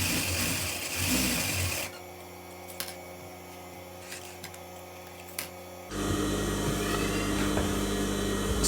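A sewing machine stitching a lined blouse runs in a steady, close mechanical whir that starts and stops, with a quieter stretch of faint clicks in between and no talk.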